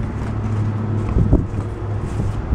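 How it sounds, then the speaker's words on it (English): Gusty outdoor wind buffets the microphone at a storage locker, making a continuous low rumble with a brief stronger gust midway. "The wind has kind of suddenly just picked up."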